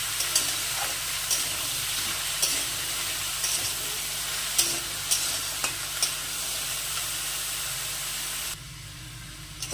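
Mixed vegetables for a Bengali chorchori fry in a pan while being stirred, a steady sizzling hiss broken by scraping spoon strokes and light clinks, close and continuous, cutting quieter near the end.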